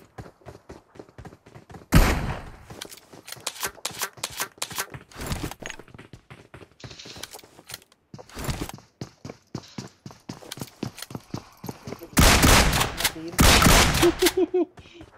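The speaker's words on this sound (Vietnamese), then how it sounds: "Nó bắn hai viên." Gunshots in a video game ring out as several loud, sharp bursts spaced a few seconds apart, with a dense cluster near the end, over a steady ticking, clattering background.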